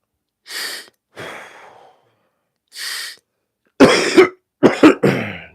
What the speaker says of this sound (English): I'm over here hitting my inhaler, coughing all in your ear.